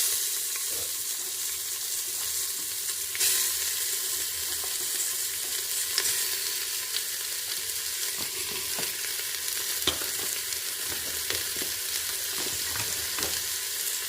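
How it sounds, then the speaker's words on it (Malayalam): Three chopped onions sauté in coconut oil for a Kerala-style beef curry, giving a steady, even sizzle with the occasional soft scrape of stirring throughout. "പാകത്തിന് വെളിച്ചെണ്ണ ചേർത്ത് നമ്മൾ ഇതിലോട്ട് 3 സവാള അരിഞ്ഞത് ചേർക്കുക"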